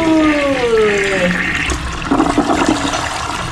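A toilet in a newly redesigned bathroom flushes with a loud rush of water and gurgling swirl, with a voice talking over it.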